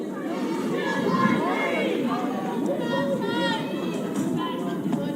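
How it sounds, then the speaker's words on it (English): Steady crowd chatter fills the stands at a high school softball sectional game between Munster and Lake Central, a dense murmur of many overlapping voices with some children's shouts rising above it, continuous and moderately close. "There's a buzz going around the stadium for sure."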